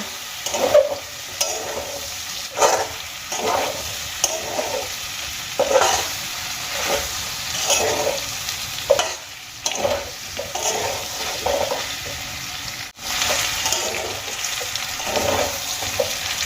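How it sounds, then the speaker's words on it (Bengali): Vegetables coated in poppy seed paste are stirred in a frying pan for a Bengali shukto with bori, a steady sizzle under repeated scraping strokes of a spatula at a slow, regular rhythm, close by. "এবার কিছুক্ষণ আমি সবজিগুলোকে নাড়িয়ে চাড়িয়ে নেব"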